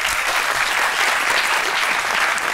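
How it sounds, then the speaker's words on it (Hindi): Studio audience applause on a live TV show, a loud, even burst of many hands clapping at once, steady for the whole span without talk over it. "वेरी गुड, तालियां"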